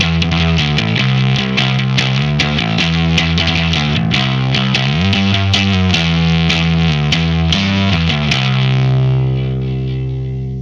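An electric guitar played through a Swamp Witch Silver Birch Overdrive pedal, with the treble turned up for extra bite: gritty, distorted riffing of quick picked notes and chords for about ten seconds, ending on a sustained chord that fades out, with no talking.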